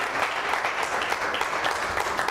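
A church congregation applauds in praise during a worship service, a steady, dense wash of clapping that runs evenly throughout without pauses.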